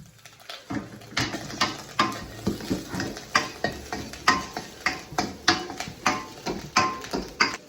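Egg being stir-fried in a pan for egg fried rice, with a rhythmic series of close scraping stirs over a steady sizzle, repeating about twice per second.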